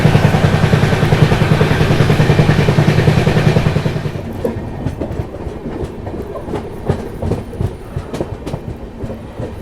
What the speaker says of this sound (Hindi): लगातार अच्छे से अपनी ट्रेन भाग रही है